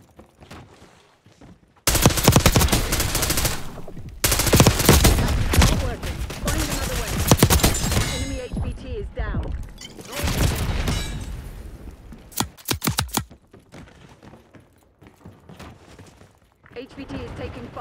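Heavy gunfire in the zombies mode of Call of Duty Black Ops 6 during a high-value-target fight, with dense bursts of automatic fire and blasts coming in loud waves, then sparser shots, with game voices talking between them.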